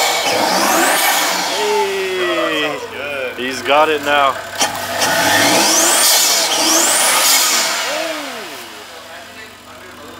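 A twin-turbo 2JZ engine fitted with a Honda Type R intake revs in short bursts and settles back, loud and close, while people talk excitedly over it.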